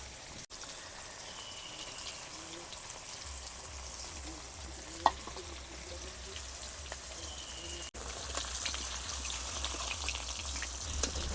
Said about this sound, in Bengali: মাছগুলো হালকাভাবে ভাজা হয়ে গেছে, এবার তুলে নেব।